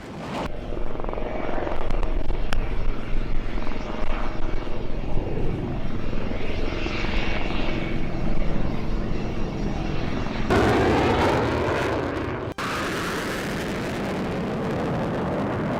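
An HAL Tejas fighter jet flies over the Pokhran range, producing a loud, continuous roaring rush of engine noise. The sound swells and shifts slightly toward the end, with no talking.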